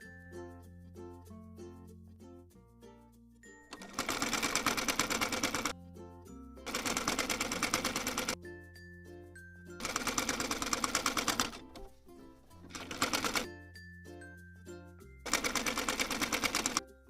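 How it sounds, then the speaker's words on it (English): A sewing machine stitches lace fabric in five rapid, loud bursts of a few seconds each, a dense mechanical rattle separated by pauses filled with quiet background music. "I will sew this part."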